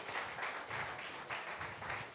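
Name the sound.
congregation clapping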